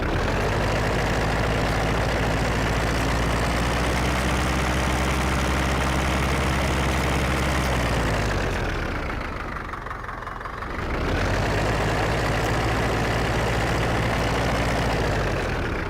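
An old Ursus 914 Turbo tractor engine in Farming Simulator 15 idles with a steady, heavy rumbling chug, dipping briefly midway before returning to its constant drone; no voices.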